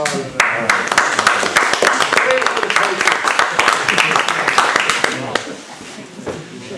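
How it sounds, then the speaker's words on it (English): Seminar audience applauding model railroad signal presenter Terry Christo, a steady burst of clapping with a voice speaking over it throughout, fading slightly near the end. "want to give them applause here?"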